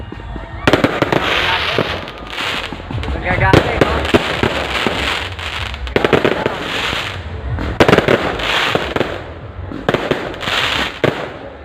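Fireworks burst repeatedly nearby at a political rally in loud, crackling explosions, with people talking and reacting over the bangs.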